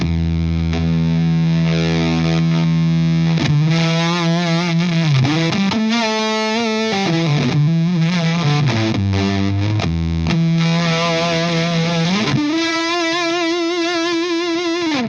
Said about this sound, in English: now we're starting to get into those real sort of classic fuzz tones